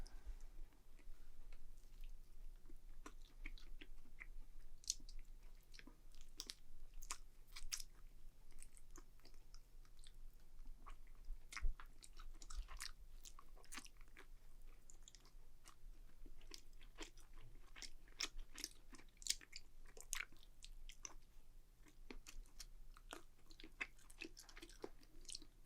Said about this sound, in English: I'm always eating the toppings first, but not the actual crust